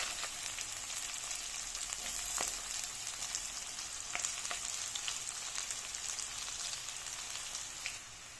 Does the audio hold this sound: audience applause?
no